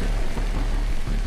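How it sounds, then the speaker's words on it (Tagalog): Heavy rain pouring down in Albay, Bicol, near Mayon Volcano during a typhoon signal, a dense, loud, continuous hiss and low rumble with no pauses. "naabutan na talaga kami ng malakas na ulan."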